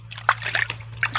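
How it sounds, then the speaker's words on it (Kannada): Water is poured and splashed over a dusty object outdoors to rinse it clean, in several short sloshing bursts over a steady low electrical hum. "ಈಗ ನೀರು ಹಾಕ್ಬಿಟ್ಟು"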